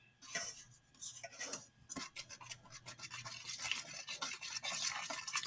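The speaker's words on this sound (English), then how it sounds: "I'm going to use my something to mix it with, which is a whisk. And I'm just going to mix it up in this bowl." A whisk mixes eggs in a bowl for waffle batter, making a busy run of quick, close scraping and clinking strokes that grows denser and slightly louder over several seconds.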